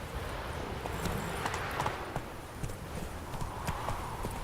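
Roach the horse trots in The Witcher 3, hooves clip-clopping in a steady close rhythm over a busy game soundscape, with a brief snort or whinny hinted and faint voices in the background.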